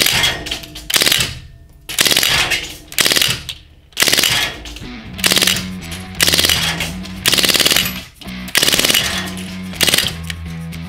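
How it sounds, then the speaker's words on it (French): Umarex Legends M3 Grease Gun CO2 BB gun firing full-auto bursts of rapid, loud, close mechanical shots, several long strings separated by short pauses until the CO2 cartridge runs out. "Allez, pour le plaisir, je vais finir la cartouche de CO2."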